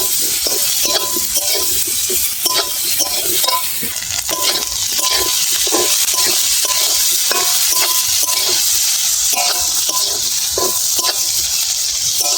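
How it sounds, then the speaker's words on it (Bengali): Spice paste for Bengali spinach ghonto fries in a pan and is stirred with a utensil, giving a loud, continuous sizzle broken by repeated rhythmic scrapes and clinks against the pan. "ভালো করে মশলাটা কষানো হয়ে গেছে"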